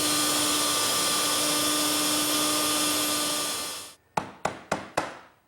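A router fitted with a 23/32-inch bit cuts a dado groove in wood, giving a loud, steady whining roar for about four seconds before winding down. Four sharp, close taps follow in quick succession.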